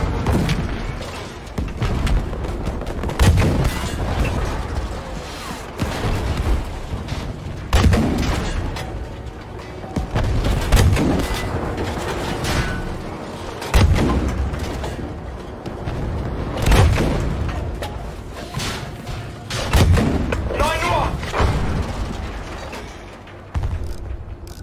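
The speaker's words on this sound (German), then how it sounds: "Der Schuss ist abgeprallt." Battlefield V combat with heavy booming cannon and artillery blasts recurring every few seconds, mechanical clanks and rumbling between shots, loud and close.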